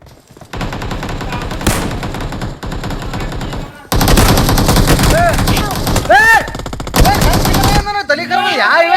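Loud bursts of automatic gunfire from the mobile battle royale game BGMI crackle in long rapid strings, broken by brief pauses, with game sound effects at the end.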